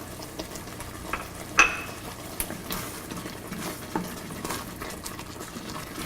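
Sugar being stirred into softened tomatoes in a pan for Kerala-style pork vindaloo, with a soft sizzle under scattered scraping and clinking of a utensil against the pan, one sharper clink early on.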